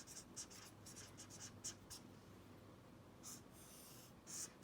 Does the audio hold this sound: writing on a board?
yes